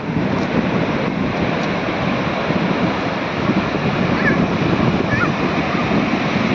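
Sea waves wash onto a beach shore at evening, a steady broadband roar of surf with wind noise, continuous and fairly loud throughout with no talk.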